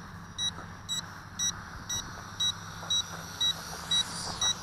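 Short electronic beeps repeat at a steady pace, about two per second, over a constant low motor hum.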